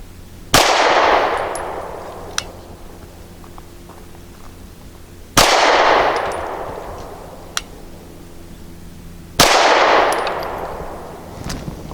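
Three sharp shots from a Canik TP9 Elite SC pistol, fitted with a pinky-rest magazine and fired at targets, land several seconds apart. Each crack rings out and decays, with a faint metallic ping following between the shots.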